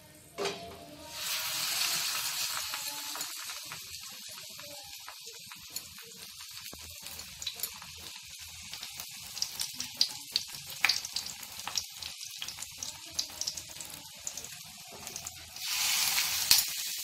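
Pumpkin flowers frying in hot oil in a home kitchen for an Odia fritter dish: a steady, close sizzle with bubbling crackles and occasional pops, swelling louder near the start and end, without talk.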